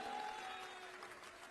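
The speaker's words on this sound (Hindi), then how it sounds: "जोरदार तालियां बजाइए राजा भैया के लिए" Applause at a political rally for Raja Bhaiya, a dense wash of crowd clapping, loud and steady with a faint tone briefly sounding near its start.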